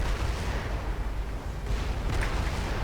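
Continuous rumbling barrage of enemy gunfire and explosions around a tank in the video game Crysis, loud and dense throughout with no pauses.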